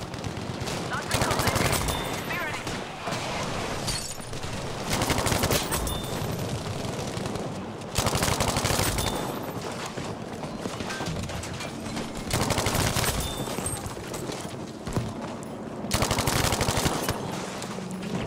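Battlefield 5 infantry combat brings repeated bursts of automatic gunfire, loud and close, broken by short pauses, while players talk over the shooting.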